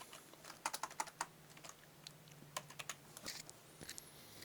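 Computer keyboard typing in quick bursts of crisp key clicks with short pauses, fairly close and moderately quiet, no voices.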